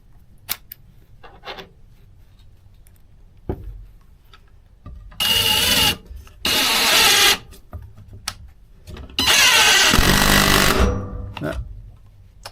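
A Craftsman V20 cordless impact driver drives a screw until it strips, firing in three loud rattling bursts separated by short pauses, with faint handling clicks between them.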